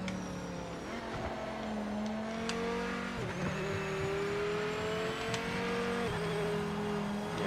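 Race car engine in the video game Project Motor Racing, revving and shifting through gears with a steady droning pitch that climbs and drops, moderately loud with faint tire noise and no talking.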